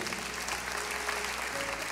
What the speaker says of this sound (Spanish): Fuerte el aplauso, Señor.